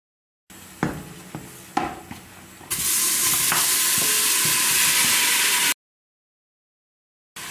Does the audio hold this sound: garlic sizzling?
yes